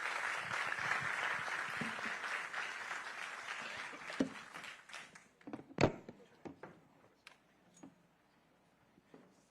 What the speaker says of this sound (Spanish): Un aplauso, por favor, a los participantes.